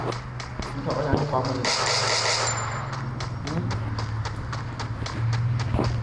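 Gunfire in the mobile shooting game Free Fire during a ranked match. Repeated sharp shots and clanks sound close and fairly loud under ongoing talk.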